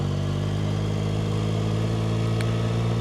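Yamaha R9 motorcycle engine running steadily on a ride, a loud close continuous hum holding an even pitch with slight fluctuation throughout, no voices.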